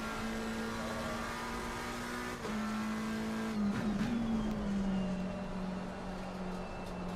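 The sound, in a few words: Porsche race car on track in video game, Watkins Glen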